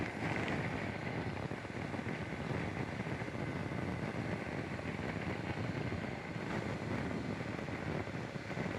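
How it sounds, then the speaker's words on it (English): Wind buffets the microphone steadily and loudly throughout, a dense roaring rush around a motorcycle at a rally, with no voices. "the wind's blowing from this direction here, so it's coming right through here"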